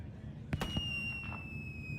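Fireworks going off in the video game Dragon Age: Inquisition, a couple of sharp cracks followed by high whistling, descending trails and softer pops, fairly close, with a voice faintly underneath.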